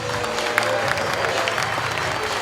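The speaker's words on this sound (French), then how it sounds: "Merci de faire un tonnerre d'applaudissements à Monsieur Christian Bauduin." An audience at an amateur football awards evening applauds Christian Bauduin, a dense continuous patter of many hands at moderate distance filling the whole stretch.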